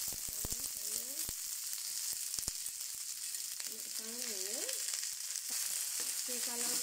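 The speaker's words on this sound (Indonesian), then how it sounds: "sekarang saya nak tuang minyak 1 setengah sudu kecil cukup ya, supaya saya nak sangai kacang kara ya" Broad beans sauté in about one and a half teaspoons of hot oil, giving a continuous close sizzle with light stirring clicks and a few faint vocal traces in the background.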